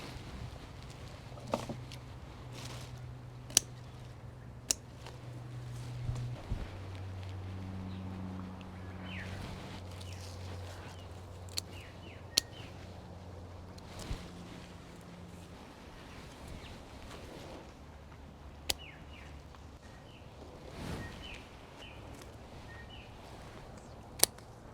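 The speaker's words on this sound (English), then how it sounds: "Just snip off these lower branches here." Pruning snips cut the low branches off chilli plants in a quiet garden, giving a scattering of short, sharp clicks spaced irregularly over a faint steady background hum.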